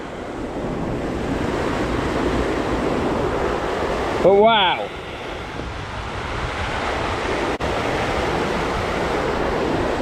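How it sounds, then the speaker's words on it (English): A river in heavy flow after recent rain, rushing water roaring steadily throughout with wind buffeting the microphone and a brief spoken remark midway. "if it wasn't such a torrent of water coming through"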